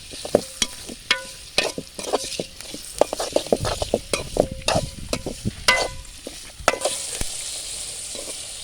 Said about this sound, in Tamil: இதை ஒரு கிண்டி விட்டு உப்பு போட்டுடலாம்